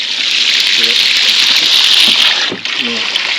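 Water running hard from a tap into a bath, a steady loud rushing gush up close, with a voice briefly over it.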